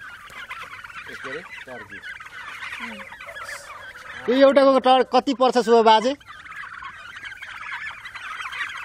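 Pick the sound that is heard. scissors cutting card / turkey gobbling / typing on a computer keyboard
turkey gobbling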